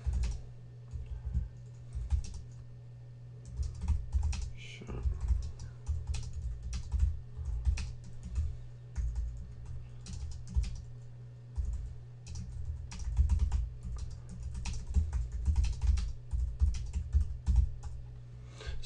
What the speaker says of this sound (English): it wants you to type a description, so I'm just going to type